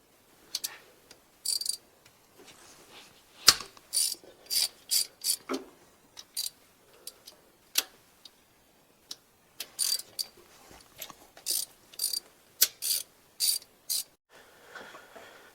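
A ratchet wrench works loose bolts from a Big Block 454 intake bracket on a C10, with quick bursts of sharp clicking that start and stop irregularly, close up, with short pauses between strokes and no talking.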